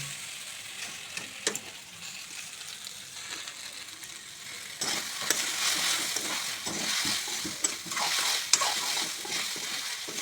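Boiled macaroni for masala pasta is mixed in a pan, with a low hiss and then louder, busy scraping and shuffling as the spoon works through the pasta, close up and without speech.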